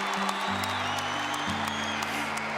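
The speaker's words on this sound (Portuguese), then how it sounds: "Pode aplaudir, pode aplaudir, pode aplaudir, pode aplaudir, vai aplaudindo" Church congregation applauding at a Catholic preaching event, a steady broad wash of clapping held at even loudness throughout, with sustained low tones from music or organ underneath.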